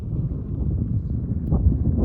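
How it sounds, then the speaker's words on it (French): Strong westerly wind gusts during a passing squall line buffet the microphone with a low, rumbling roar that swells and surges, growing heavier toward the end. "On entend le vent."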